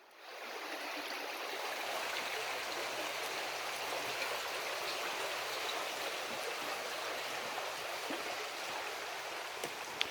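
Creek water flowing over rocks on a rural property, a steady close bubbling rush that swells in quickly and holds evenly throughout, fairly soft with no talking.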